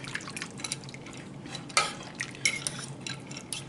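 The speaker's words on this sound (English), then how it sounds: "Stir that all in" Noodles being stirred into lemon pepper chicken soup in a crockpot, with a spoon scraping and clinking against the pot in a few sharp knocks over soft wet swishing and no talk.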